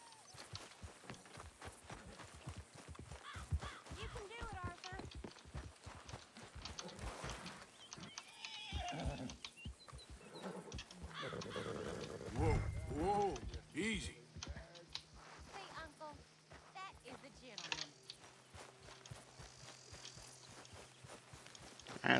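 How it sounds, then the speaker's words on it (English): Horses in the Red Dead Redemption 2 video game near a hamlet, with irregular hoof clops and steps under game noise, and a voice speaking over parts of the scene. "Let's go calm the horses."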